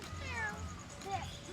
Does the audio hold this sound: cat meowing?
yes